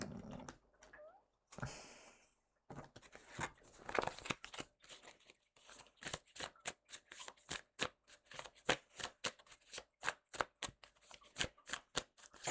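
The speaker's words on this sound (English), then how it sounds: "I'm going to shuffle the tarot" Tarot cards shuffled by hand in a quiet room, starting with scattered rustles and a sliding riffle, then settling into a fast, steady run of crisp card slaps, close and fairly soft, with no talking.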